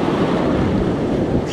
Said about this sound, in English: That's why this waves right here are getting nuts.